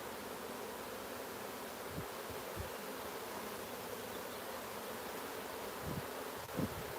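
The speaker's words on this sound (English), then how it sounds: "Just a bit of light smoke. It just pushes the bees off, you know." Honeybees at an open hive during queen-cell grafting drone in a dense, steady buzz as a light puff of smoke drives them off, faint under a hissy background with a few soft bumps.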